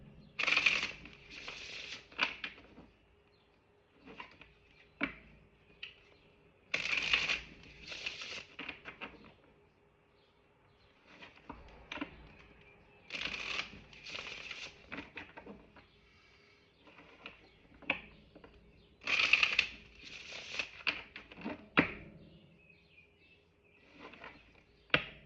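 An oracle card deck is shuffled by hand in repeated bursts of papery riffling and light tapping, close and moderately soft, with quiet pauses between bursts and no voices.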